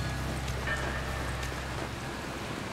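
Steady rain pours over the Dying Light game world, a continuous close wash of droplet noise with no voices.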